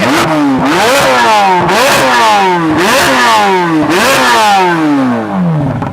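A Corvette Z06 flat-plane crank naturally aspirated V8 with sports exhaust revs hard toward redline, four loud close sweeps climbing to a high shriek before falling away, the last one trailing off more slowly.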